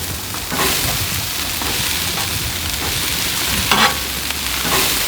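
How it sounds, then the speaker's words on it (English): Red and green bell peppers and onions sizzle in oil on a Blackstone griddle, a close, steady frying hiss with occasional stirring scrapes, no talk. "the first thing to go on the griddle is our peppers and onions."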